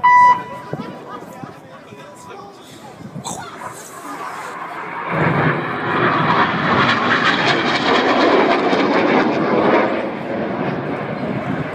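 Red Arrows Hawk jets fly an aerobatic display, the synchro pair approaching with a loud rising roar that builds from about five seconds and holds steady and strong, over a busy air show crowd with people talking nearby.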